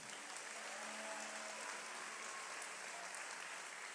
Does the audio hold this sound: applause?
yes